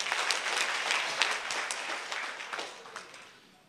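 Loud, dense audience applause at a 6th anniversary celebration event in Bhubaneswar, Odisha, a steady wash of many hands clapping that gradually thins toward the end.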